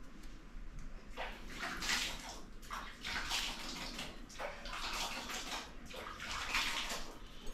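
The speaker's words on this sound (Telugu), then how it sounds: "హ్యాండ్ వాష్ చేసుకొని వస్తాను" Water runs from a tap while hands are washed, a steady close splashing stream that surges in uneven bursts as the hands move under it, with no talking.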